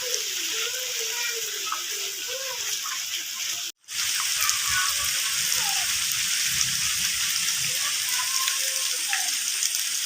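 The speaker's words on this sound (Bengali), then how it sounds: "এই যে বৃষ্টি পড়ছে" Steady rain hisses across a rice paddy field, a dense wash of drops with a brief break in the middle, and birds chirping faintly behind it.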